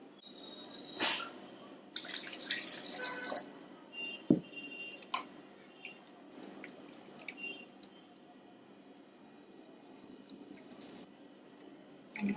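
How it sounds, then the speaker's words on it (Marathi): Ground coconut poured into a sieve over a bowl and pressed to squeeze out coconut milk, wet squelching and dripping sounds, quiet and close, with scattered soft clinks. "आपण हे ओतून घेऊया खोबरं ह्याच्यामध्ये"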